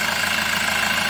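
Car engine from 2017 idling, a steady close mechanical hum with a faint, even pulse and no break, no speech.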